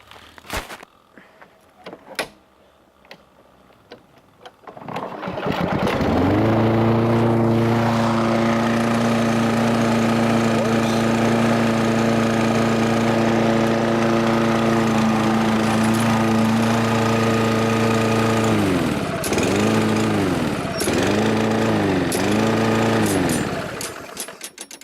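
A rebuilt four-stroke lawn mower engine starts on one pull after a few handling knocks, then runs loud, close and steady with an even idle, revving in several short bursts near the end.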